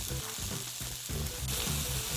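Chopped onion dropped into a pan of garlic frying for a vegetarian Korean bibimbap, sizzling steadily and close up with a bright hiss and occasional stirring scrapes throughout.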